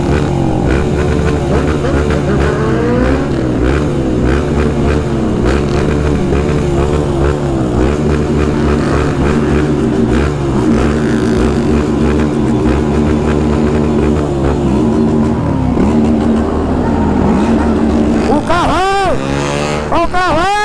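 Convoy of many motorcycles rolling past, a steady, loud engine drone with overlapping revving tones rising and falling, and a sharper rev-up swelling near the end.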